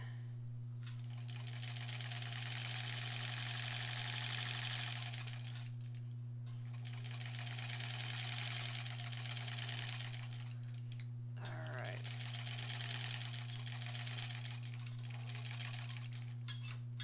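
A sewing machine stitches a long seam on a Halloween embroidered tote bag, running in three steady bursts of a few seconds each with brief pauses between, a constant low hum underneath throughout.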